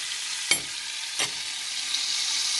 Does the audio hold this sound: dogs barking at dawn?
no